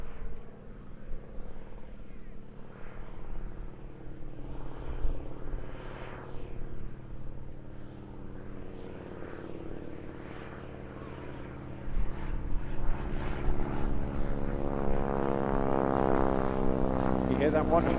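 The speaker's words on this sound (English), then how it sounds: "You hear that wonderful roar there? That is from the massive 450 horsepower Pratt & Whitney radial engine." A 450 horsepower Pratt & Whitney radial-engined aircraft flies at an airshow, its drone building to a louder roar near the end. A commentator's voice talks over the engine.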